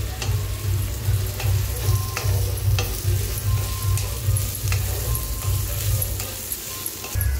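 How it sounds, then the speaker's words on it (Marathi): Onions fry loudly in a pan while being stirred, giving a dense continuous sizzle with a low rumble underneath and repeated scraping clicks from the spoon throughout. "कांदा आता बघा चांगला भाजायला लागलाय"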